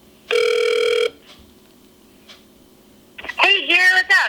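A phone line rings once with a long buzzing tone while a call is placed, followed by a quiet pause before a voice answers and talk begins.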